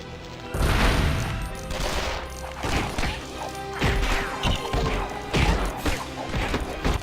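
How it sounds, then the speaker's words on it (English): In the LEGO Batman video game a detonator sets off a bomb, producing a burst of crashing, crackling blasts and debris clatter over a game music bed, loud and close, with several separate bangs spread across the clip. "Step on the detonator and watch the fireworks."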